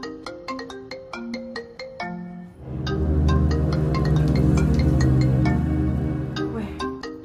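A phone ringtone in a game rings out loud and close as a repeating melodic chime for an unknown-number call, then swells into a sustained, fuller musical ring with no talk over it.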